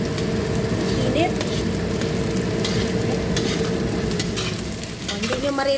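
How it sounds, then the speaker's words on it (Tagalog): Fried rice with vegetables stir-fries in a pan, giving a loud, continuous sizzle with scraping and tossing sounds, and a voice speaks over it near the end. "Ganyan ang pagsasangag or stir-fried rice."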